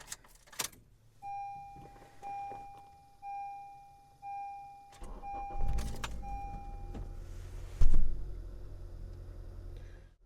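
A 9th gen Honda Civic Si: several regular electronic warning chimes ring inside the car, then the engine cranks and catches, settling into an idle with a brief louder rev near the end.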